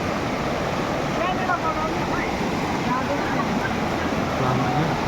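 Rashi Khola river running big and muddy in the rainy season, a broad, constant rushing roar of flowing water heard from the bank, steady throughout with a light wash of wind.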